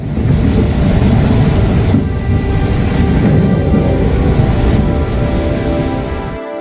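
An express train from Adelaide to Port Pirie rumbles steadily and loudly, with a dense, continuous roar of wheels and carriage noise throughout.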